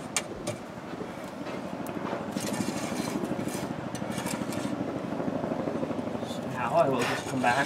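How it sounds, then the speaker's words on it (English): Steady helicopter rotor thrum with a low rhythmic chop, continuous throughout, moderately loud with some clinking noises near the start. "Helicopters are flying over."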